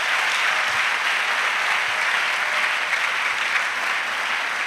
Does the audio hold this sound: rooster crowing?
no